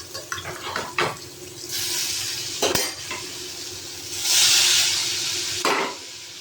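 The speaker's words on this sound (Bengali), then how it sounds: "এই পটল বাটাটা আমি একটু তেলের সঙ্গে নেড়ে নেব।" Pointed gourd paste and boiled potato being stirred in hot oil in a pan, with a soft sizzle under repeated metal spatula scrapes and clinks, close and moderately loud.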